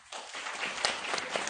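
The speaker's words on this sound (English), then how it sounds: "Not very much applause" Light, thin applause from an audience at a book talk at Harvard Book Store, a steady patter lasting about a second and a half, fairly faint and without voices.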